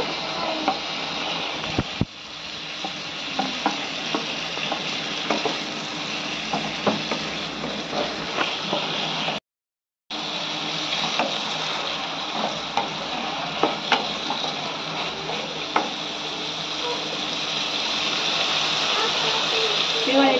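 Ridge gourd pieces tumble into a pan of sizzling spice paste and get stirred, giving a steady frying hiss with repeated scraping and clattering strokes up close, broken by a brief silent gap midway.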